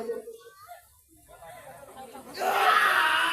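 Tug-of-war teams shout in a large arena during a heated second round, a distant crowd-like din that swells suddenly into a loud, sustained roar of many voices partway through.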